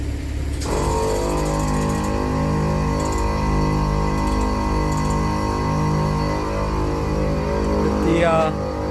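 Air suspension compressors on an Audi S4 B8.5 kicking on and running in a steady, buzzing mechanical hum with a slight pulsing beat, close and continuous until a short pitch change near the end.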